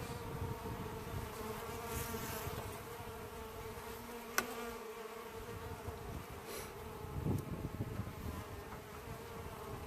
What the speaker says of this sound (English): They're not real happy with me sitting here, but they're tolerating it because I'm not directly in their flight path.